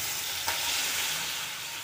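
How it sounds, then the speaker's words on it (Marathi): Ghee and milk go into a hot kadhai for rabdi, producing a steady, loud sizzling hiss that runs throughout with a small splash near the start. "तूप टाकून घेऊया. आणि दूध टाकून घेऊया."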